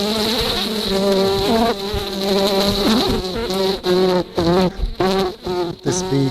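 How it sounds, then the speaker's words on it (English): A honeybee runs with its wings spread and buzzes steadily and loudly throughout, a dense, wavering insect drone with shifting tones and brief dips near the end. "A bee is running, as the name implies, and while she's running, she's got her wings spread and she's buzzing."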